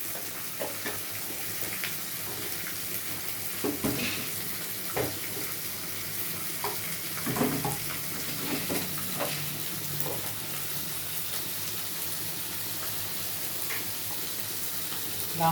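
Spices with turmeric and cumin powder fry in hot oil alongside potato and papad, giving a steady, moderate sizzle with occasional stirring scrapes and clinks throughout, no voices.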